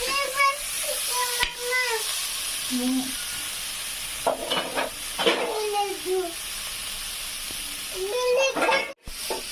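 Green moong bean pods roast in a pan with a steady sizzle and hiss as they are stirred over and over, with someone talking and a voice heard over the cooking.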